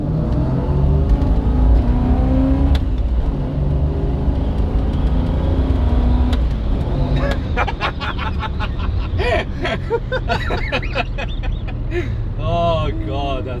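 Holden HQ car with a T5 gearbox accelerating through the gears, a loud engine roar rising and falling with each shift, mixed with rattles and rushing noise from inside the cabin.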